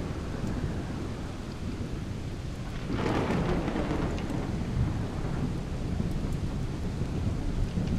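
Heavy thunder rolls through a lightning storm in the survival game The Solus Project, a deep rumbling swell over constant rain and wind noise that surges midway and lingers.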